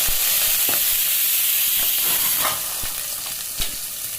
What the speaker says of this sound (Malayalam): ഉള്ളി പച്ചമുളക് കരിവേപ്പില ഇട്ട് ഗ്യാസൊന്ന് വേണ്ടി വരട്ടെ